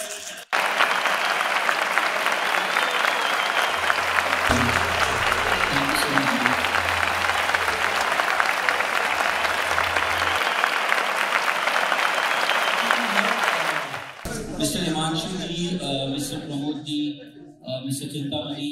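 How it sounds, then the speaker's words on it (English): An award ceremony audience gives sustained, dense applause for about fourteen seconds before it fades out and an announcer's voice takes over over the last few seconds. "A big round of applause."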